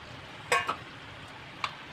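Cooked white cowpeas are tipped into a pan with eggplant and stirred, giving a few quick, faint scrapes and clinks against a quiet background.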